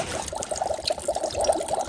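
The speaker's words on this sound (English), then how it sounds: "Okay, I'm pouring it in." Liquid pours into a Magic Mixies toy cauldron in a steady, close trickle lasting about two seconds, with no talk over it.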